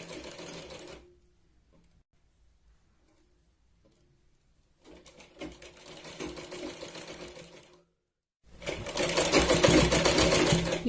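A sewing machine stitches a folded strip on a katori blouse, running in two bursts separated by a quiet pause, the second burst louder and steadier, with no talk over it.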